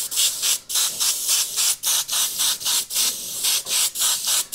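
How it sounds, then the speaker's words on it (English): A double-action airbrush, gravity or siphon fed, sprays in a regular series of short hissing bursts with brief gaps between them, each burst loud and close. "Whether your airbrush is a gravity or a siphon feed airbrush, and you find yourself airbrushing like this"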